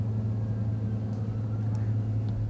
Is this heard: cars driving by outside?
yes